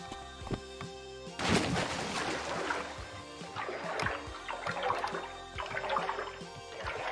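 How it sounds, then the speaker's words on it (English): Water splashing and gushing in the parkour video game Refunct, a sudden loud surge followed by continued sloshing, rushing water with scattered faint clicks. "the water sounds like toilet"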